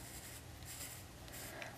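A pencil scratches across paper while drawing a Celtic knot, a close, continuous soft scraping with a few brief stronger strokes.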